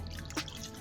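Water poured into a pot holding a rice kheer mixture of coconut, turmeric, cumin and cardamom gives one short, close splash against a faint background, with no talking.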